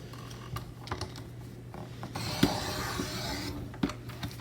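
A paper trimmer slices a cardstock cover page for a disc-bound coloring book: a few sharp clicks and taps from the blade carriage, then a brief swishing cut, close and fairly quiet, with no talking.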